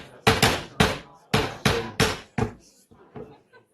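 A gavel bangs repeatedly on wood at a board of supervisors meeting, about eight sharp, loud strikes in an uneven rhythm that fade to softer taps at the end.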